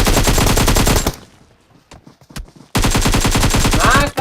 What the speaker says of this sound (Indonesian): Gue ditembak dari belakang, Bocin.